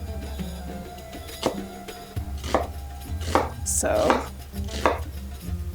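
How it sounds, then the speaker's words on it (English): A knife chops an onion on a cutting board, several crisp, close knocks at an uneven pace with quiet gaps between. "So I'm gonna start off by chopping an onion."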